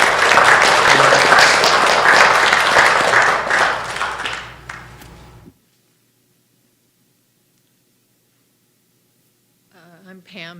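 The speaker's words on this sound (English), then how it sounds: "if we could maybe applaud to send them our love and prayers and thoughts" Loud, dense audience applause at an indoor gathering, steady for about five seconds before fading out into silence; a voice briefly starts speaking at the very end.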